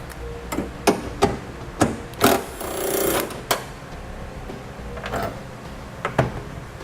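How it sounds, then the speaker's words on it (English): A 10mm bolt comes out of a 2019 Honda Ridgeline tailgate: a series of sharp metallic clicks and taps, with a brief ratcheting rasp in the middle. The sounds are fairly quiet and close, and no one talks. "We'll now remove the 10mm bolt located here."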